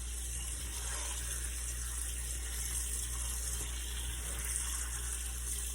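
Steady running tap water pours into a kitchen sink while rice is rinsed to wash out its starch, a constant even rush with no talk.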